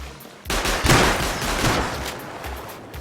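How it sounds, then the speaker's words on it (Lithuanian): A burst of video-game gunfire erupts after a quiet moment, rapid shots blurring into a dense, loud fusillade that carries on to the end. "Šaudo kažkas."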